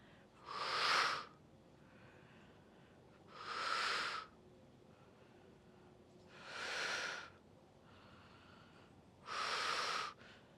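Heavy exhalations through the mouth during an abdominal HIIT workout: four long, breathy rushes of air spaced a few seconds apart, close and fairly soft, with quiet gaps between and no speech.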